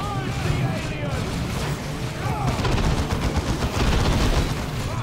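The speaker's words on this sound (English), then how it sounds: "Keep firing, boys. Keep firing." Rapid bursts of gunfire in the real-time strategy game Warhammer 40k: Dawn of War II, with a tank firing at Ork greenskins; repeated chattering volleys and booms sound close, under a voice.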